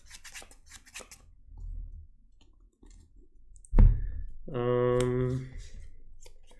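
Cards from a Magic: The Gathering deck are shuffled by hand at a tournament table, a sharp riffle followed by a quick rippling burst of card flicks, close and otherwise quiet.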